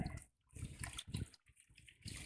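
Water sloshing into a gold pan full of gravel and rocks, uneven splashing swirls with short pauses between, close and fairly quiet with no speech.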